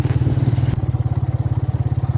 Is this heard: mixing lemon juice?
no